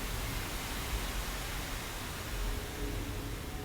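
Dense, steady white noise fills a preparation room in an art installation, a continuous loud hiss with a heavy low-end rush and no pauses or other sounds.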